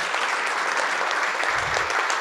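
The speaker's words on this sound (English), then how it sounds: "I truly want you to give them a round of applause." Applause fills a conference hall at an emergency preparedness event, a steady wash of many hands clapping at even loudness, with a faint low voice briefly underneath.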